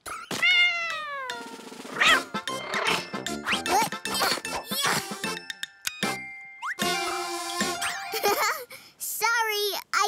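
A cartoon cat meows repeatedly in bright, pitched calls, mixed with lively animated voices, chimes and playful sound effects throughout.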